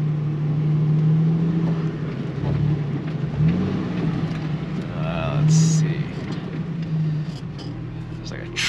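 A Jeep crawls off-road between tight trees in British Columbia, its engine a low steady drone that rises and dips as it works over a tree stump, with thumps and creaks of the body and someone talking over it.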